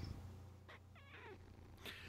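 Cat close to a microphone over a low steady hum, with a few short bursts of vocal sound that could be purring or faint chirps.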